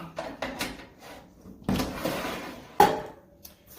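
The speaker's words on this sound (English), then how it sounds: "So I'm just going to throw the rack back in," A metal rack slides back into a De'Longhi EO241264M air fryer toaster oven, producing a series of close scraping clatters and a sharp clunk as it seats, with quieter rattles between.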